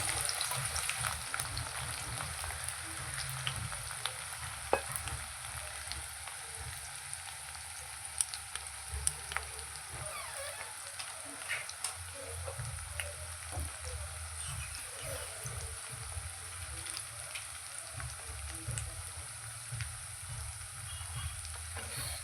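Two large finely chopped onions frying for a chhole breakfast dish, a continuous soft sizzle with occasional stirring scrapes and clicks, steady and moderately quiet throughout with no talking.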